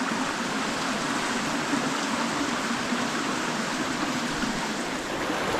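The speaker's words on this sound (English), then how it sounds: "Here's a little dribbly waterfall." A small waterfall splashes into a stream, a steady, close, rushing wash of water with no talking.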